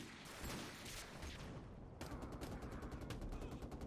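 An M1911 pistol fires in Call of Duty 4: Modern Warfare Remastered. Dense, loud game audio gives way to a sharp burst of rapid, repeated reports.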